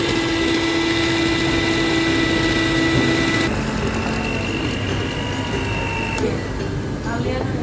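An electric mixer runs at high speed whipping cream with mascarpone cheese for a tiramisu, giving a steady loud motor whine that drops to a lower tone partway through, with kitchen clatter near the end.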